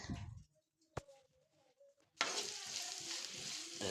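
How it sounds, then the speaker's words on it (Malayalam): Onions sautéing in oil in a pan on the stove, with a brief clatter at first, then a bright sizzle that swells and carries on steadily nearby. "പാൻ അടുപ്പത്ത് വെച്ച് അതിലോട്ട് ഓയിൽ ഒഴിച്ച് സവാള ഇട്ട് നല്ലപോലെ വഴറ്റിയെടുക്കുന്നുണ്ട്"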